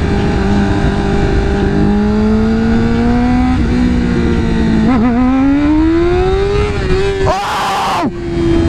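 A motorcycle engine revs hard and steady through a wheelie, its pitch slowly climbing and wavering, close and loud, ending with a brief burst of wind or clatter near the end.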